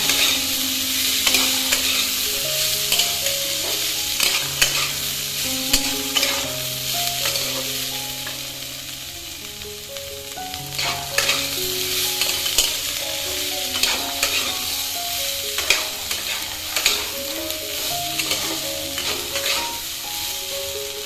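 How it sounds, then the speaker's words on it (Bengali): Boiled chickpeas and potatoes being stirred and fried in a pan, a steady sizzle under repeated scraping and knocking of a spatula, close and busy throughout. "5 মিনিট নাড়াচাড়া করে ছোলা আলু সেদ্ধটাকে নামিয়ে নেব।"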